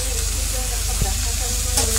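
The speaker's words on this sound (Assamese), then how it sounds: "ধুনীয়াকৈ শাক ভাজি আছোঁ" Leafy greens sizzle and fry steadily in a home kitchen pan, a close, continuous crackling hiss with faint stirring scrapes.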